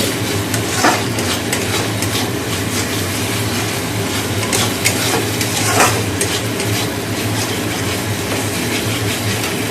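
A masala paste of cashews, raisins, small cardamom and tomato cooks in a pan, giving a steady, fairly loud sizzle and stirring scrape with a few sharper clinks along the way.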